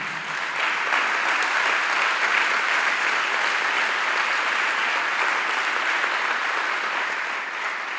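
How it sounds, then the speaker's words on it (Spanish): A church congregation at a Sunday service breaks into loud, sustained applause, a dense, even wash of clapping that holds steady for several seconds without talk. "Dale un fuerte aplauso a Jesús"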